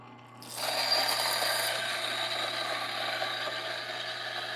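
A Fianzaro electric coffee grinder set to 900 microns starts up and grinds beans, a steady, close, gritty whirring hum that holds evenly for several seconds.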